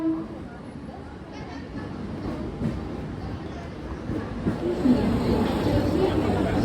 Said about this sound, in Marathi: एक ट्रेन आली